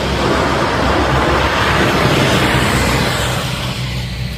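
A truck arriving along a rural road near a river, a loud, steady broadband engine roar with rushing noise, close by and gradually easing toward the end, with no talk over it.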